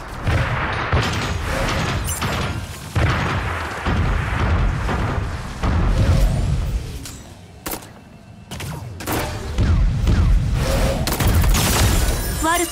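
Rapid bursts of gunfire in the video game Super Mecha Champions crackle and boom almost continuously, dense and loud, with brief lulls between volleys.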